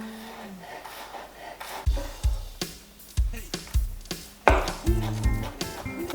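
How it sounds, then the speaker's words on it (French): A knife mincing garlic on a wooden board, with a series of irregular sharp chopping knocks and rasping scrapes, close up and fairly clear. "éminçons l'ail"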